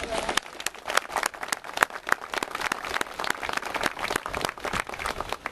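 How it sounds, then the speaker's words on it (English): An audience at a commemoration gives a round of applause, with sharp irregular claps close by and a voice speaking amid them. "So special round of applause for Breach there"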